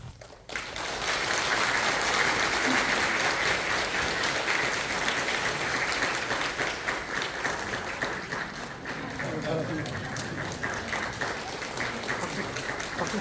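Sustained, dense applause from a congregation at a pastor ordination ceremony in a church, steady and loud for over ten seconds with a faint voice briefly under it.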